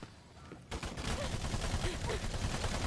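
Sudden burst of rapid automatic gunfire in the video game Battleborn, a dense continuous volley starting after a quiet moment and holding steady, with a voice talking underneath.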